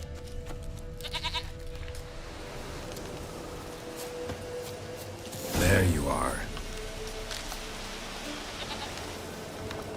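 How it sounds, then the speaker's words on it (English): A goat bleats once in The Witcher 3, a short wavering cry in the middle of the scene, heard over steady ambient game noise and rain-like background, with someone speaking briefly before it. "Here, goat."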